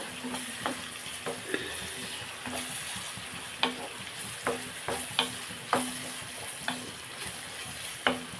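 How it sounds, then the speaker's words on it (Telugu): Steady sizzling of onions frying in a pan, with sharp scraping clicks of a spatula stirring at irregular intervals. "ఇంకా బాగా రోస్ట్ అయ్యేలా చేసుకున్నాను ఆనియన్స్ బాగా"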